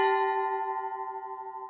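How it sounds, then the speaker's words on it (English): A single bell strike rings out clearly and alone, its bright metallic tone sustaining and slowly decaying with a gentle wavering shimmer. "A bell."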